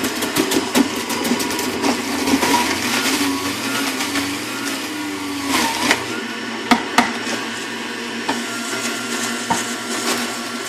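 A juicer runs steadily while whole tomatoes are pushed through it, a constant motor drone with sharp knocks and clunks as the fruit bounces around inside.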